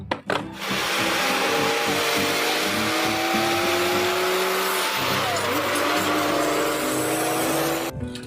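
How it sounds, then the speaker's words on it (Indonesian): A long tow truck carrying vehicles drives past, a loud continuous engine and road roar with shifting whining tones, fairly close and without talk. "Mobil towing, mobil membawa kendaraan."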